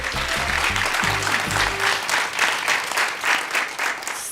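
A television quiz show studio audience applauds a contestant, steady dense clapping swelling in waves, with a short musical sting sounding underneath at the start.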